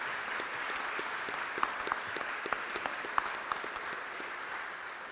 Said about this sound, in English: Can we also have a round of applause for Shani for facilitating a great discussion?